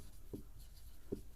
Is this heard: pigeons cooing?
no